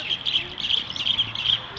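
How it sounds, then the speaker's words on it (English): Birds fighting, giving bright, rapid high chirps and tweets in short repeated bursts close by, over a faint low background hum. "The birds fighting."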